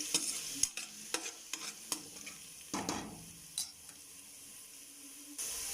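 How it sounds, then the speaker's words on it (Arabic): Garlic and onion sizzle in a pan while a utensil stirs and scrapes, with occasional clacks against the pan, steady and close. "جلينا الثوم مع الايه مع البصله"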